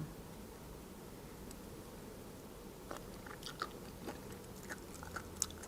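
Crispy squid tentacles are chewed up close, with faint, sharp crunches and bites growing more frequent in the second half over a steady background hiss.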